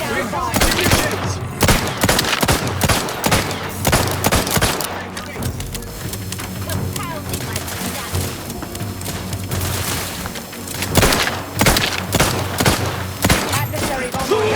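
Rapid bursts of gunfire and a grenade detonation in The Outer Worlds 2, loud sharp repeated cracks clustered at start and end with a heavy boom, over a continuous combat din.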